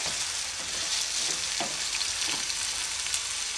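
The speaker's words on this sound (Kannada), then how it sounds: "ಈರುಳ್ಳಿನ ಜಾಸ್ತಿ ಕೆಂಪಾಗೋ ಅಷ್ಟೇನೂ ರೋಸ್ಟ್ ಮಾಡೋದಕ್ಕೆ ಹೋಗಬೇಡಿ" Onions frying in a pan make a steady, close sizzle with a few soft stirring scrapes and no talking.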